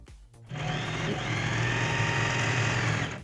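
Dream Stitch domestic sewing machine stitching a decorative pattern, a close, steady mechanical whir with a fast rhythmic needle chatter that starts after a brief pause and runs continuously.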